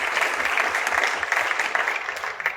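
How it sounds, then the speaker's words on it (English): Moderate audience clapping at a televised Vermont lieutenant governor candidates' debate, a brief burst of many hands heard from a short distance with no talk over it. "Round of applause for them as well."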